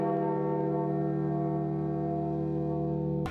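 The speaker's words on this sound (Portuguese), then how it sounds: "as igrejas tocaram os sinos." Church bells in Italy tolling in memory of Pope Francis, a sustained ringing hum with long lingering overtones that fills the whole stretch and then cuts off abruptly.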